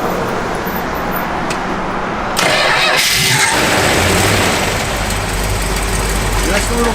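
A 1970 Plymouth Cuda fitted with a cam starts up and settles into a loud, lumpy idle close by. Someone talks over the running engine.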